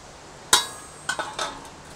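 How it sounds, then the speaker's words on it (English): A metal grill grate is set onto a Weber Jumbo Joe charcoal grill, giving one sharp clanking impact followed by a few lighter metallic clinks as it settles, close and otherwise quiet. "Grill grate on."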